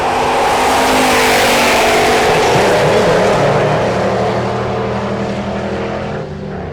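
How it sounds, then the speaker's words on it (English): A Dodge drag car launching down the strip at Tulsa Raceway Park, a loud, sustained engine roar that stays powerful and slowly fades as the car pulls away. "Dodge in the right lane takes off"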